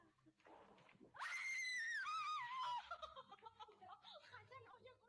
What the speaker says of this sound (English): something startles the girl, who then runs screaming from the room